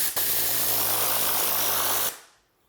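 Rag Company Ultra Air electric sprayer misting water, a loud, even motorized hiss and whir that switches on abruptly, runs steadily for about two seconds, then cuts off and fades.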